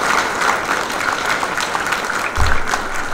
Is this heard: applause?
yes